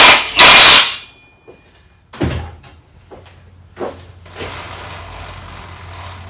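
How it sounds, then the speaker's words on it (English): Someone tightens the axle nut on a Yamaha YZF1000 Thunderace swing arm with a loud burst of tool noise, then several metallic knocks and clunks, spaced irregularly, followed by a steady low hum. "And whack that axle nut up."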